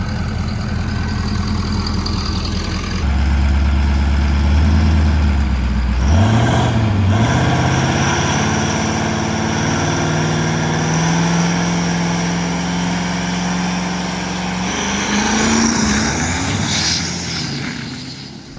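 A triple-turbo 6.7 Powerstroke diesel dragster makes an eighth-mile pass at a drag racing event, a loud, sustained engine roar whose pitch climbs steadily through the run, with no voices.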